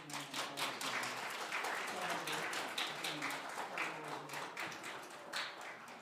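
A church congregation claps in celebration after an infant baptism, a dense steady round of applause from many hands filling the room for several seconds.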